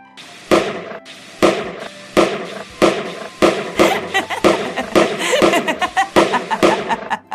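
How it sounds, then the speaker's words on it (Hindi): Firecrackers burst one after another, sharp close bangs coming at a steady rhythm and then faster in a dense crackling string, loud and with no talking over them. "किसी के पीछे पटाखे रखकर बजाना।"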